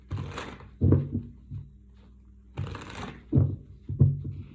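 Tarot cards are shuffled on a tabletop, giving several soft riffling bursts and light taps in quick clusters, close and fairly quiet, with no speech.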